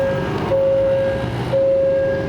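An Alsthom diesel locomotive-hauled train in Thailand rumbles past at close range in rain, a steady mechanical roar with a thin whining tone running through it.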